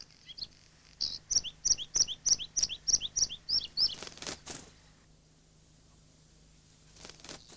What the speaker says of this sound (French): Gorge bleue et fauvette grisette ont installé leur famille à l'abri des regards indiscrets.